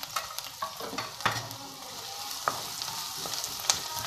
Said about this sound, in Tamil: ரெண்டு ஆனியனை சின்ன சின்னதா chop பண்ணிட்டு அதோட போட்டு ஃபர்ஸ்ட் வதக்கிக்கலாம்